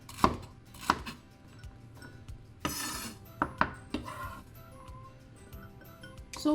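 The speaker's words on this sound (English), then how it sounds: "I'm actually chopping my celery finely." A knife chops celery finely on a cutting board while beef cheek braised in red wine is prepared, giving sharp, irregular taps with brief scraping sounds, close and clear in a quiet kitchen.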